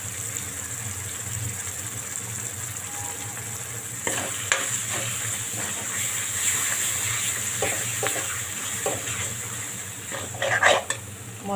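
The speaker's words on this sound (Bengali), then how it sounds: "মশলাটা কষিয়ে নেব।" Ginger-cumin paste and turmeric sauté in a pan for a cauliflower curry, making a continuous near sizzle broken by the scrapes and clatter of a utensil stirring, with no talk.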